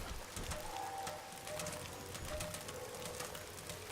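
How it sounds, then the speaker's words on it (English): Rain patters on a tin diving helmet in BioShock 2: quiet, dense ticking drops tapping the metal in a steady spatter, faint and unbroken throughout. "Rain pattering against the tin helmet."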